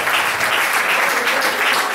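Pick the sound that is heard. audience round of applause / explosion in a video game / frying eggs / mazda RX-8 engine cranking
audience round of applause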